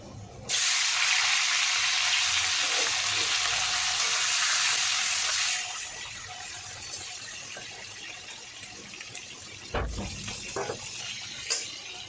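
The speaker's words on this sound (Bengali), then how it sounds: "এবার আমি মাছের মাথাগুলো ভেজে নেব" Hilsa fish heads drop into hot oil and set off a loud, bright sizzle that roars steadily for several seconds, then settles to a quieter crackle broken by a few sharp pops and clatters, with no talking.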